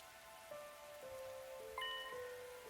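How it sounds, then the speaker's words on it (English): Steady game rain hiss runs through the clip, soft and constant, with a few faint tonal chimes from the soundtrack overhead and no voices. "This rain stuff is nothing but trouble."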